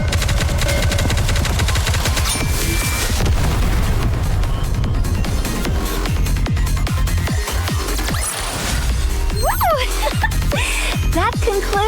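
Gunfire in the video game Goddess of Victory: NIKKE: loud, continuous machine-gun bursts mixed with heavy booms, layered over game music with voices speaking throughout.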